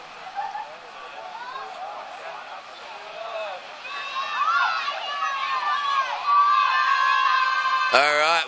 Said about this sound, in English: you can hear the crowd going nuts